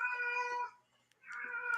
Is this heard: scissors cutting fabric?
no